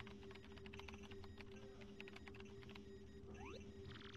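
Keyboard typing sound effect from the Paper Mario: The Thousand-Year Door video game: quiet rapid clicks over a steady low hum, ending with a brief rising chirp tone.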